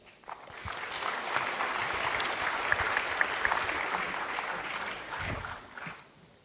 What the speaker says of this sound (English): can we have a bigger round of applause to our panelists?